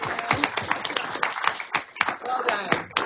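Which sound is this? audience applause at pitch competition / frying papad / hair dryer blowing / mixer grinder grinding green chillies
audience applause at pitch competition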